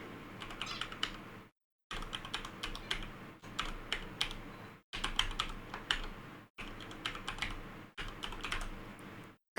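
Quick clicking keystrokes come from typing on a computer keyboard while an email address is entered into an account sign-up form. The bursts are close and crisp, split by several brief pauses, with no voices.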